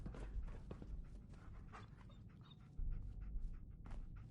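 Dogmeat, the dog in Fallout 4, pants rapidly and close by, with soft paw steps underneath and a louder burst of breathing near the end.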